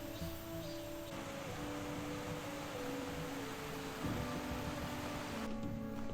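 A mountain valley stream beside a forest trail gives a steady, soft rushing hiss of flowing water, with a gentle melodic tone running over it throughout.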